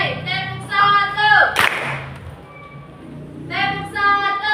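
A class of eighth-grade students claps hands together once in unison during a math lesson, one sharp loud clap in the middle with voices speaking before and after it.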